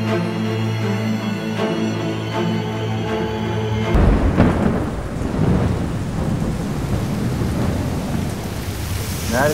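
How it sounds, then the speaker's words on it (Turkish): Steady rain with rolling thunder; a tonal hum fades out after a few seconds, leaving heavy downpour and loud rumbling. "Nereden çıktı bu yağmur?"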